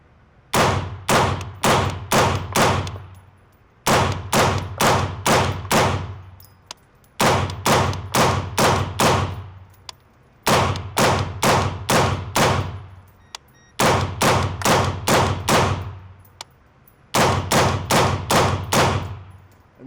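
A suppressed rifle fires strings of five rounds, sharp loud cracks in quick, even succession with short pauses between each string, six strings in all.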